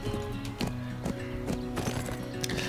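A horse in the video game My Little Riding Champion clip-clops with a steady hoof rhythm, played over looping background game music with no talk.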